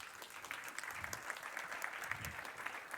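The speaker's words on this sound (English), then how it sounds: "Big round of applause" A conference audience claps in sustained, dense applause, steady and fairly distant, with no voices standing out.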